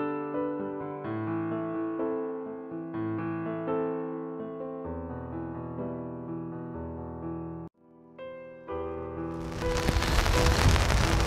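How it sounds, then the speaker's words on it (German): Rain begins at a small lake during a night of carp fishing: instrumental music plays for several seconds, then a loud, dense hiss of rain on surfaces abruptly takes over. "es hat angefangen zu regnen"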